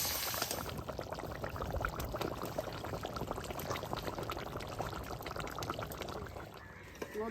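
Catfish pieces fry two at a time in a pan over a village cooking fire, a dense, continuous bubbling sizzle held close and fairly loud for the whole stretch, with no voices.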